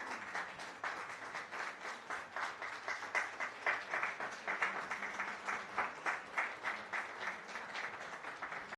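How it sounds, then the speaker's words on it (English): Conference audience at a pediatrics event clapping steadily for several seconds, a dense rhythmic patter of many hands, moderately distant and fairly quiet. "So a great round of applause for Shivranjani Santosh ma'am."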